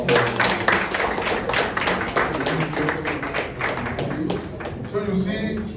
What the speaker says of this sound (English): Please give him a resounding round of applause.